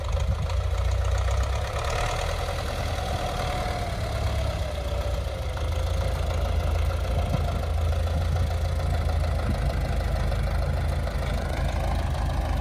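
A tractor engine idles continuously, a loud low rumble with steady mechanical chugging and no talk.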